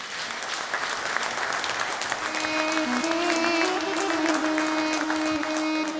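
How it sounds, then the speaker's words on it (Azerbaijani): A festival audience at a saz and folk-poetry gathering gives a winner sustained, dense applause. The clapping stays loud and steady throughout, and a held musical tone rises under it in the second half. "Muğam Festivalının qalibi Aris Hüseynovu alqışlayın, xahiş edirik."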